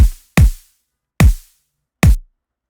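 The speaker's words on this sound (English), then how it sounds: "The kick sounds like this." A kick drum sample shaped with EQ, hit four times at uneven spacing, each a loud punchy low thump that decays quickly into silence.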